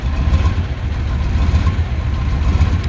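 A KAMAZ truck engine idling just after a cold start at minus 20, a steady low rumbling drone close by with no pauses.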